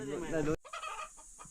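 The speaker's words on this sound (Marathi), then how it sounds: "आवाज भारी येते कोंबड्याचा" A rooster of a free-range village breed calls loudly and briefly, then a few softer clucks and rustles follow close by.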